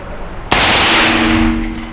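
A rifle with a binary trigger fires a sudden, very loud close-range burst of rapid shots that ring out and decay over the following second and a half.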